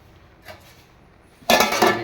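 A metal lid is set onto a pot of biryani topped with fried onions, mint and coriander, giving one loud, close clattering clank with a short ringing rattle after a quiet lead-in.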